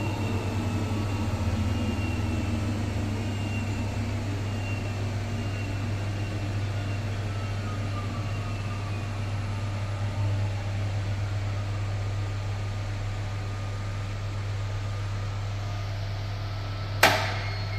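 An Electrolux Professional WN6-20 washing machine winds down from its spin, a steady low motor hum with falling whine tones gliding downward, ending in a sharp click.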